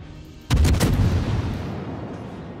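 Enemy naval gunfire in World of Warships, fired at a Minotaur cruiser, lands as a sudden loud booming salvo of several close thumps that rumbles and fades out over the next two seconds.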